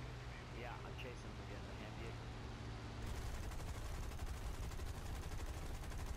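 Rapid aircraft gunfire rattles in continuous bursts during a War Thunder dogfight over a village, a steady dense stream under engine drone, with voices talking over it.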